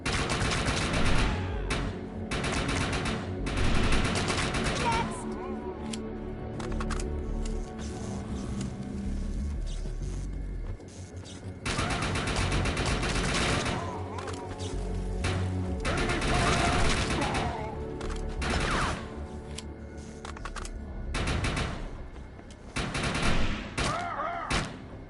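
Dense gunfire in the sci-fi shooter Defiance 2050: loud, sustained bursts of automatic weapons and scattered explosions fill the whole stretch, with brief lulls between volleys and faint voices underneath.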